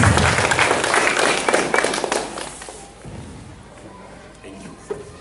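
Audience applause at a graduation ceremony, a broad wash of clapping from a crowd that is loud at first, then thins and fades to scattered claps over several seconds.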